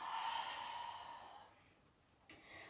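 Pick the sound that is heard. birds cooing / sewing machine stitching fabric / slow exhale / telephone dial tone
slow exhale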